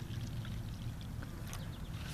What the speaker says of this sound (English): fill it with water